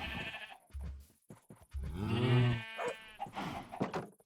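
Sheep bleating in Minecraft, a few loud, wavering game bleats up close with a short pause between them and no talk over them.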